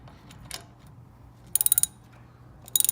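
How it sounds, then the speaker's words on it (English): A ratcheting 17mm socket wrench turns a brake caliper bolt on a 2007 GMC Sierra, giving two short bursts of rapid, sharp clicks close up, with a faint tap between them over quiet background. "Putting the 17mm socket, locking it with an adjustable wrench on the other side."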